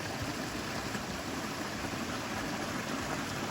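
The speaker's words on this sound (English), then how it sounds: "Little waterfalls." Little waterfalls on a creek in the Two Springs area, a steady, faint broadband rush of flowing water with no talk.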